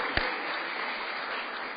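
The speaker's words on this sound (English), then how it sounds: "Let's give her one more round of applause." Audience applause at a Board of Aldermen meeting, a steady wash of clapping heard from a distance at low level, with one sharper clap near the start.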